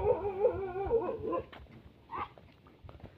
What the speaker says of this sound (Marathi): तिकडे कुत्रे भुकायलेत पहा